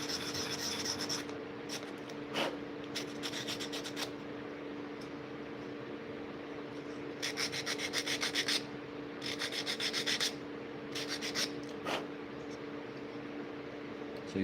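Wood sanded by hand on a wooden knife sheath, a close, quiet rasping rub that comes in uneven bursts of quick back-and-forth strokes with short pauses between them, no talking.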